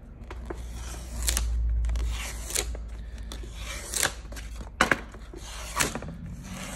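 Wooden shims are cut down to size: several sharp snaps and cracks spread across the clip, each followed by quiet handling, with a low rumble in the background.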